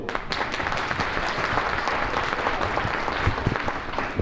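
Sustained audience applause at a charity Christmas fair at Cașin Monastery, a dense, steady wash of many hands clapping, fairly close and even throughout with no voices on top.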